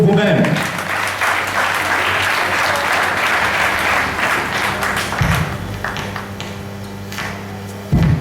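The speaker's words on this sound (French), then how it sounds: "Est-ce qu'on ne peut pas applaudir très fortement pour vous-même?" A crowd at the 55th anniversary celebration of the commune of Boungou applauds loudly, with sustained clapping over a low hum and a voice talking briefly near the end.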